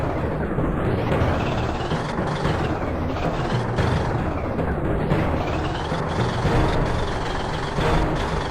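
A military cargo truck rumbles loudly in a truck driving game, with a steady engine drone and several rising revs, close and continuous with no talk.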